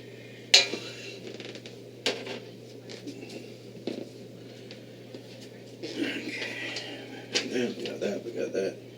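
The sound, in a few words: spatula scraping soft butters for soap making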